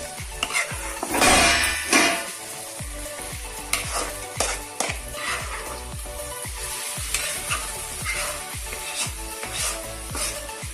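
Kanda bachali paste, a yam and Malabar spinach mix, is stirred into a sizzling tempering in a pan. A loud frying hiss runs under repeated scraping strokes of a spoon against the pan, with one burst of sizzle near the start.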